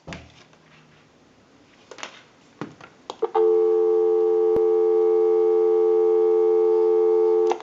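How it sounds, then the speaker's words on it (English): A Disney Mickey Mouse novelty telephone under repair gives a steady, loud dial tone that starts after a few handling clicks and thumps and holds unbroken to the end. "Go ahead and give you some dial tone."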